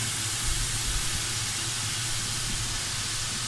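Ginger garlic paste frying in a pan over moderate heat for mutton kofte, producing a loud, continuous broadband hiss close by with no talking.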